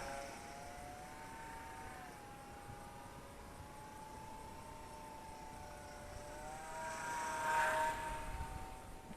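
An Eachine Mini P47 Razorback warbird RC plane with a 500mm wingspan flies at 80 to 100% throttle, its electric motor a thin, faint whine that drifts in pitch and swells briefly as it passes nearer.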